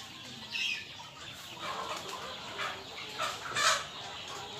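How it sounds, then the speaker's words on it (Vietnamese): Chicks and free-range chickens cluck softly in short scattered bursts, faint and close, with quiet background ambience between calls. "Đây bầy gà con."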